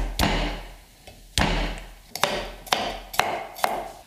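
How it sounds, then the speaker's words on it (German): A knife chops garlic on a cutting board in a kitchen, about seven sharp knocks at irregular intervals, each hit clear and close. "Knoblauch sollte man nicht zu fein schneiden."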